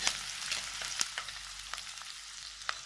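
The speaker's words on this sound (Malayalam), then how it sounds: "എടുത്തു വെച്ചിരിക്കുന്ന ഇഞ്ചി, പച്ചമുളക്, വെളുത്തുള്ളി എല്ലാം കൂടിയിട്ട് ഇളക്കുക" Ginger, green chili and garlic sizzling in hot oil in a pan while being stirred, a steady bright crackling hiss with small spatter pops throughout.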